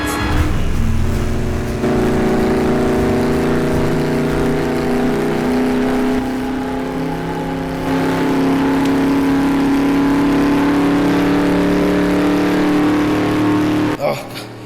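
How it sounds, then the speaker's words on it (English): Honda Jazz car in a video game, a loud steady engine drone with rising harmonic tone as it revs and accelerates, continuous and close. "It's a Honda Jazz!"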